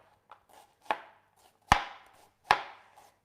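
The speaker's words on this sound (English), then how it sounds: "just got to do a cup of onion sliced" A knife slices an onion into thin slices on a cutting board for an oriental pork dish, producing several sharp, separate chopping strikes at an uneven pace, close and clear, with no talking.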